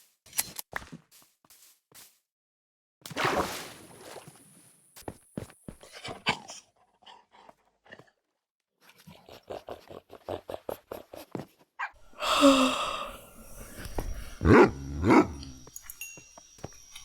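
Wolf pups in Minecraft Bedrock Edition yip and bark in short, scattered bursts among clicky game effects, with quiet gaps between and a denser, louder cluster near the end.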